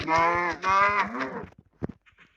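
A cow moos loudly and nearby in a few drawn-out calls, followed by a couple of brief knocks or thuds, with no speech.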